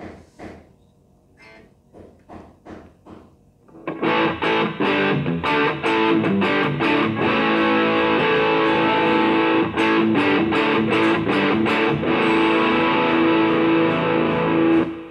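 An Epiphone Les Paul Ultra III electric guitar plays through distortion, a few muted picked notes first, then loud, thick sustained chords strummed continuously for over ten seconds.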